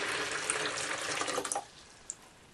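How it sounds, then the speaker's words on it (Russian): Warm tap water runs into a clean container to start a salt brine, making a steady close splash and gurgle that stops abruptly partway through, followed by a single faint drip. "Для начала нужно взять обычную крановую теплую воду,"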